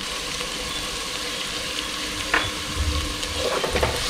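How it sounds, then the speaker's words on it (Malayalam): Onions sautéing with salt in a pan for beef kothu porotta, a steady close sizzle with occasional scraping stirs and light clinks, continuous throughout with no voices. "ഉള്ളി ഒന്ന് വഴണ്ട് വരാൻ വേണ്ടി നമുക്ക് കുറച്ച് ഉപ്പ് ആഡ് ചെയ്ത് കൊടുക്കാം"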